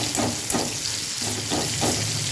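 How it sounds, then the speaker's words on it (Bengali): Halved onion fries in hot oil in a pan while cooking a Bengali crab masala, a steady close sizzle with a few soft stirring scrapes and no talk. "পেঁয়াজটা একটু ভেজে নেব।"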